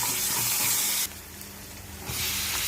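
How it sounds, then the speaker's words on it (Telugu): Onions, curry leaves, dried red chilies, tempering spices and ginger-garlic paste frying in a pan, a steady loud sizzle that dips briefly mid-clip and then swells again. "కొంచెం అల్లం వెల్లుల్లి పేస్ట్ ఇవి మంచిగా ఫ్రై అవ్వాలి."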